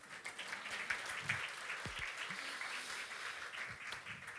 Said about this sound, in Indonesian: tepuk tangan lemes